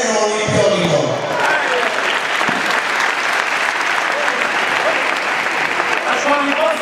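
Sustained audience applause for a judo participant at a legality-themed judo event, dense steady clapping filling the whole stretch, with some voices mixed in near the start.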